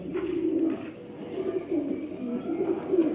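A Ferozpuri breeding pigeon cooing, repeated low throaty coos in a steady rolling rhythm, close and moderately quiet with no voices.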